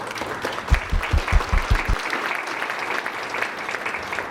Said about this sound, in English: perhaps a warm round of applause for Dirk